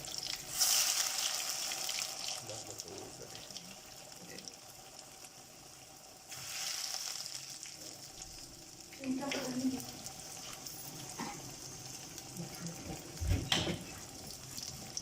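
Chicken potato cutlets sizzle in hot cooking oil in a kadhai, a steady close frying hiss with crackling bursts and occasional clatter, while a person talks intermittently.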